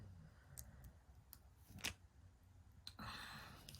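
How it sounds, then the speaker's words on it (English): Scissors snip a Color Street nail polish strip, a few quiet, sharp cuts spaced apart in a hushed room, very faint and close. "I'm actually going to cut it"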